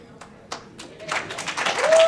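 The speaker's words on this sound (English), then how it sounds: "applause" An audience at a 2017 Kankakee mayoral debate starts with a few scattered, isolated claps, then breaks into dense, steady applause that grows louder and holds through the end, with a voice speaking briefly over it.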